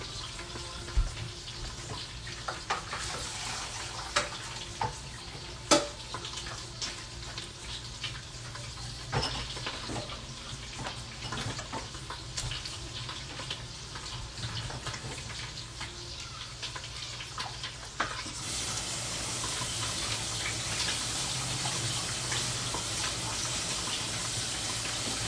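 Water running and splashing into a kitchen sink with soft clinks as cooked stew ingredients are drained, growing into a louder, steady gush near the end.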